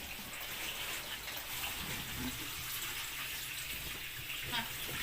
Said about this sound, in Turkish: Ondan sonra pirinci yıkıyorum şimdi.